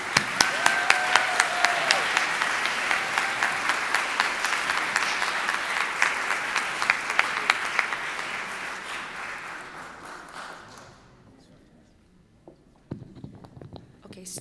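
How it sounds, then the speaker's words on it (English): A large audience claps steadily in a school-director tribute ceremony, a dense, loud round of applause sustained for about ten seconds before fading out, followed by a few scattered sounds and movement in the room. "So everyone, another round of applause for Vardit"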